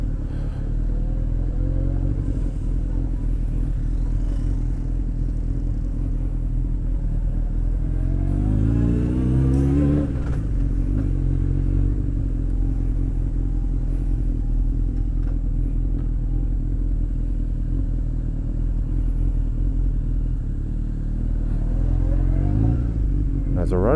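A motorbike rides through Seoul city traffic with a steady, loud engine drone and wind rumble, a revving swell midway, and passing car noise under it throughout.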